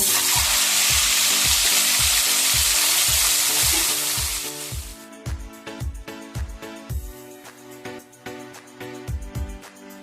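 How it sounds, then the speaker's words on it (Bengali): Salt-and-turmeric-coated kajoli fish fry in hot mustard oil in a wok. A loud, close hiss fills the first few seconds, then eases into rhythmic spatula taps and scrapes with a lighter sizzle underneath. "এবার মাছগুলো আমি একটু ভেজে নেব"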